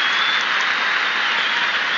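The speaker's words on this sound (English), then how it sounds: "The crowd are excited." Steady, loud crowd applause and cheering fill the stands at a 1991 Australian football match between Adelaide Crows and Hawthorn, a continuous dense roar throughout.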